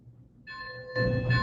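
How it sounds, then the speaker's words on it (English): A Lionel starter set toy train bell starts ringing after a quiet moment, a sustained metallic clanging that grows louder partway through. "You've got your bell."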